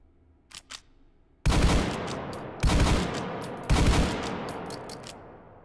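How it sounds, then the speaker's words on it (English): Double barrel lever action revolver shotgun in a virtual reality game firing three loud, close blasts about a second apart, each with a decaying tail, after a couple of faint mechanical clicks. "It's a double barrel, lever action, revolver shotgun."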